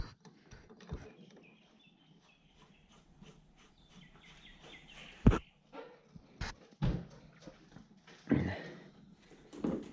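Dogs bark in a garage during a Mk3 Supra engine swap: a few sharp, close barks and yelps scattered among quiet rustling, with faint whimpers between them.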